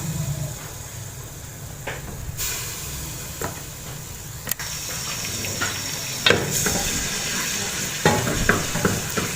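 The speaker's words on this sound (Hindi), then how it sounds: "इसको हम थोड़ा सा सौते करेंगे" Ginger garlic paste sautéing in a pan for khara masala mutton, a steady close sizzle and fry hiss running throughout, with occasional stirring clinks and scrapes and a brief louder burst near the end, no talk.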